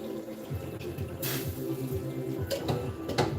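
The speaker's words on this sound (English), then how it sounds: "add a tiny bit more of water." Water being poured into a cooking pot of fish stew, a running, splashing pour under a steady kitchen background, with a few brief clinks and louder splashes near the end.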